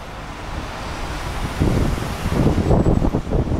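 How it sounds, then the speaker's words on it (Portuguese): Strong gusts buffet the microphone at Congonhas airport runway, a loud, rough roar that swells and surges in the second half. "Ó, o vento aqui tá demais"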